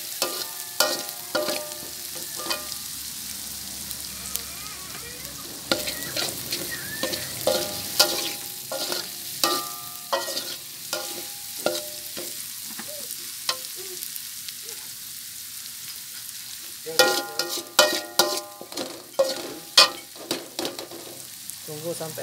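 Shallots, garlic and candlenuts frying in a pan for sambal: a steady close sizzle with frequent scraping stirs and clacks of a utensil against the pan, intensifying near the end.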